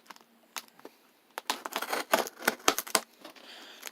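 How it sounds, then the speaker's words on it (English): A run of sharp scissor snips and crunching clicks cutting open a cardboard box of books, irregular and close, building into a dense cluster of cuts before tapering off, with no talking. "I'm going to just have to go in there with the scissors"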